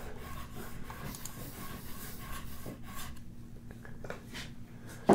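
A hand plane blade rubs back and forth on a sharpening plate in a workshop, a steady, close scraping rasp that runs continuously and thins out toward the end, with no talk.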